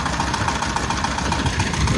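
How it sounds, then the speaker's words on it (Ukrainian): A tractor engine runs at a steady idle on a farm field, giving a continuous close, loud rumble with a faint knocking throb and no talk. "Трактор ще живий."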